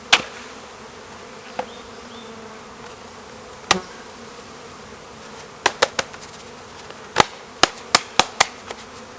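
A low, steady hum of buzzing honeybees sits beneath a scattering of sharp knocks and taps as a bee package is shaken into a hive, some coming in quick clusters.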